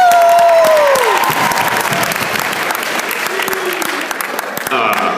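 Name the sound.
audience applause at a stand-up comedy show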